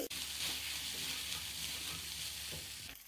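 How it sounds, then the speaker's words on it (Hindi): Chicken pieces frying in hot oil in a pan, a steady loud sizzle throughout with faint stirring scrapes near the end. "अब हम ये चिकन भी साथ ही डाल देंगे ताकि हल्के से फ्राई हो जाए"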